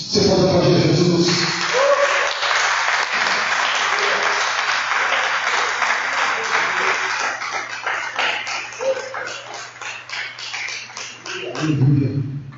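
A church congregation applauding, a loud sustained burst of many hands clapping that thins out toward the end, with voices calling out over it.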